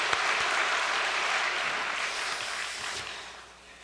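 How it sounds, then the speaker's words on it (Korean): Church congregation at Cheonsun Church applauding its elders, a dense, steady wash of many hands clapping throughout that slowly fades toward the end. "우리 원로 선배님들께 큰 감사의 박수를 한번 올려주시면 감사하겠습니다"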